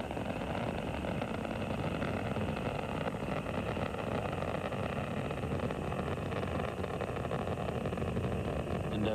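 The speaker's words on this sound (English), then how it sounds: "Endeavour's engines are now throttling down as the orbiter begins to pass through the area of maximum dynamic pressure" Space shuttle Endeavour's engines roar during the STS-68 launch, a steady, muffled, distant broadband rumble with no speech.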